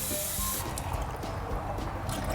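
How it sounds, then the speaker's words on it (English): Tap water fills a drip pan for a turkey on a Big Green Egg grill, a close splashing trickle that shifts in tone as the level rises, steady throughout without voices. "the rest, I'm just going to fill up with tap water"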